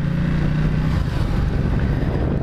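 A Ducati XDiavel motorcycle rumbles loud and close while riding on country lanes, its engine note pulsing through a gear change under heavy wind buffeting.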